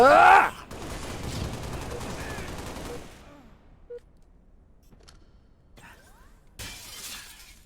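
A glass pane shatters loudly in a Halo first-person shooter match, followed by a few seconds of falling debris and crackle, then quieter sparse game sounds and another burst near the end.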